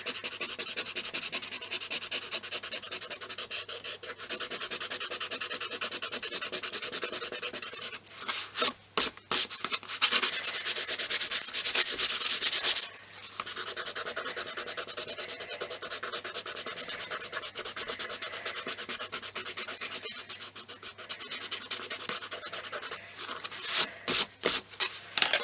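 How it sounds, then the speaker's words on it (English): An eraser rubs out marks on paper in long, continuous, close scratchy strokes, with quick harder bursts of rubbing at intervals, no talk. "So let me rub this out."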